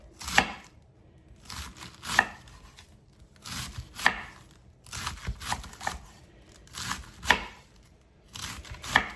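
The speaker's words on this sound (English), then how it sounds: "I'm just slicing it into thin slivers, and then I'm going to turn it around and slice it again." A kitchen knife shaves a small head of cabbage into thin slivers on a cutting board, giving repeated crunchy slicing strokes in an uneven rhythm, close and clear with no talk.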